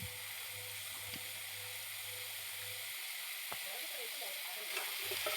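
Cut potatoes and tomatoes sauté with spices in a pan for a chicken curry, giving a continuous, even sizzle close by with faint scraping.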